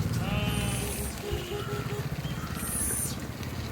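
Goats bleating outdoors in a green roadside area, several wavering calls rising and falling across a few seconds over a steady low background rumble.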